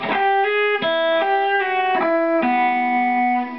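Telecaster electric guitar playing a fast, cheesy lick, a run of sustained picked notes sliding between pitches over a few seconds, clear and upfront with light effects and no talking.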